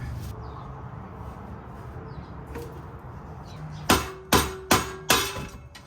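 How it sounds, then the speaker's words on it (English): Four sharp metallic hammer strikes ring out in quick succession near the end, knocking off Saab 9-3 exhaust hangers through a rag, preceded by quiet workshop background and a couple of faint knocks. "I was using a rag and a hammer and didn't damage the exhaust at all"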